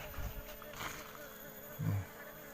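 An Apis cerana honey bee colony hums in a faint, steady buzz as the nest is handled, with a brief louder swell near the end and some voices in the background.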